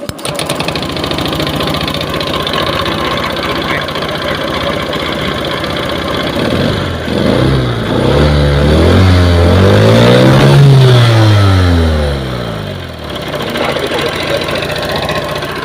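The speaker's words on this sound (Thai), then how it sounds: "ให้ทุกคนสตาร์ทเครื่องเลย ให้ทุกคนสตาร์ทเครื่อง" A car engine with worn piston rings runs with a loud, continuous rattling, knocking idle, then revs up and settles back down near the end of the clip.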